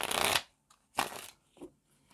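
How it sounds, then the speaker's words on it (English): Tarot cards shuffle in two short riffling bursts close by, each about a third of a second, followed by a few soft taps and rustles of the deck, otherwise quiet. "Quick shuffle."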